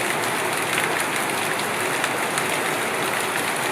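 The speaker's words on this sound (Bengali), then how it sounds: "উপর থেকে জলের ধারাটা এখনো ক্রমাগত পড়েই যাচ্ছে।" Monsoon rain pours down steadily on a wet day in the Andaman Islands, a dense continuous hiss of falling water that stays even and fairly loud throughout, with no voices.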